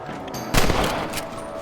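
A single loud rifle shot at rabbits in Red Dead Redemption cracks and echoes briefly over steady outdoor background noise.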